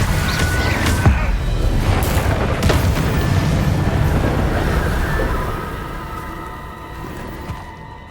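Incendio fire spell effects in Hogwarts Legacy: a dense roaring burst of flame with booming impacts early on, the rumble tapering off over several seconds.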